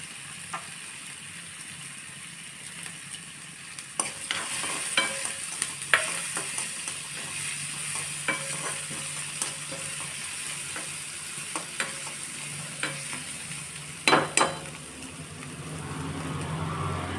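Carrots stir-fried in a pan, a steady sizzle running throughout with scattered scraping and clacking strokes of a spatula, a few sharper clicks near the end, no talking.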